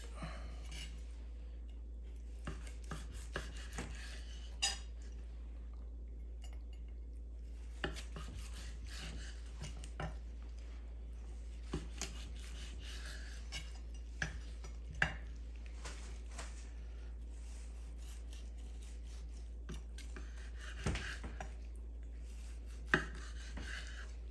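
A knife slices through a seared harissa-marinated lamb rack on a board, faint scraping strokes with scattered sharp taps of the blade, quiet and without talk.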